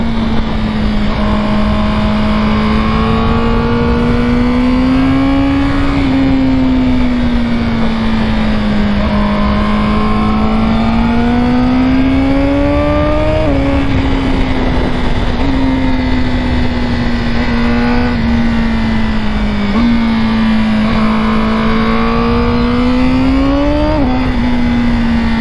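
A car engine revs steadily and loudly, its pitch climbing and dipping in repeated waves as the throttle is pressed harder, close and continuous throughout with no talking.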